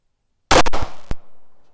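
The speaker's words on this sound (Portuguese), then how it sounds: "Primeiro disparo." One sharp, loud 9mm pistol gunshot firing Federal American Eagle 147-grain FMJ ammunition cracks close by, followed by a quick metallic click and a brief fading echo.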